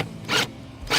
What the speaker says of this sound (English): Then take your 8mm along the clamp screw that's on the back of the throttle body.